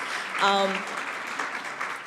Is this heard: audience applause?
yes